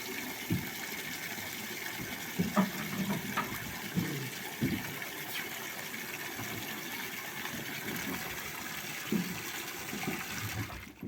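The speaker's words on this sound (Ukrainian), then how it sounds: "Вода у мене підведена самотьоком, тут без світла, відкрив і." Water runs from a gravity-fed tap in a horse stable, a steady rushing flow lasting several seconds with scattered knocks and clatters around it, fairly quiet and with no talk.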